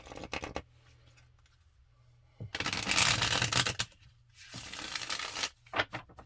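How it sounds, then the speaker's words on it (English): Tarot cards being riffled and bridged in two long bursts, with short shuffling flicks around them, close and fairly loud, no talking. "Let's get one more good shuffle."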